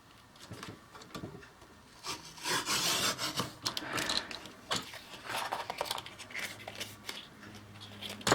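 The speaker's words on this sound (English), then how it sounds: "I'm just going to trim the tiniest little bit off of there" Scissors trim a sliver off a paper piece for a 6x6 mini album. The cutting gives a soft, intermittent rasping and rubbing, close and quiet, with no talking over it.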